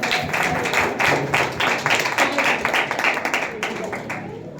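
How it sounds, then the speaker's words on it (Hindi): Congregation clapping together during a Sunday church service, a dense stretch of hand claps with voices mixed in, fairly loud and close. "अपने लिए तालियां बजाते हैं"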